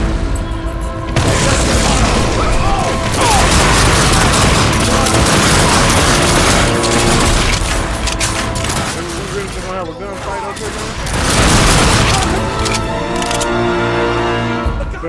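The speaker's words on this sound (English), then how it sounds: "how many times do I have to shoot her before she surrenders?" Loud, dense gunfire from the Darkness 2 video game, with booming shots and rapid bursts running almost nonstop with only a brief dip, mixed with game sound effects and voices.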